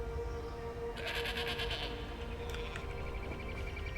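Sheep and goats bleat on a farm in the Elder Scrolls Online video game, several overlapping calls from about one second in, moderately close above a steady droning ambient background.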